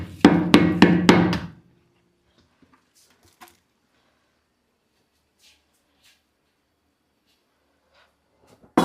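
A ladle taps down soaked seeraga samba rice in a large pot of Dindigul chicken biryani, giving four quick, loud knocks at the start, followed by near silence and faint handling sounds.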